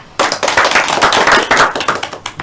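A classroom group claps together at a microteaching session, a sudden burst of brisk, closely spaced hand claps that carries on for about two seconds before thinning out.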